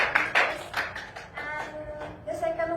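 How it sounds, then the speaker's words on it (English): A classroom of students claps for a classmate, a short uneven burst of nearby hand claps that thins out, followed by a voice speaking. "give applause to your friend"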